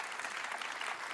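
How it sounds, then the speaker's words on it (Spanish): A church congregation at a Sunday service claps together in sustained, fairly quiet applause, a dense wash of hands heard from a distance without voices over it. "denle un aplauso fuerte a Dios por eso"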